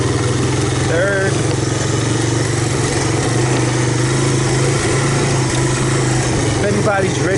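A 1985 Honda Big Red 250ES three-wheeler ATC engine drones steadily while being ridden in third gear, loud and close, with heavy wind noise over it.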